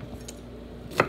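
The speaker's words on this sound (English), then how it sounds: "I thought we'd cut our vegetables first, and then chop them up" A knife chops vegetables on a board for a black bean chili, with a single sharp cut standing out near the end over faint background noise.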